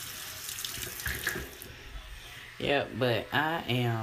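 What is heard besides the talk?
water running from a tap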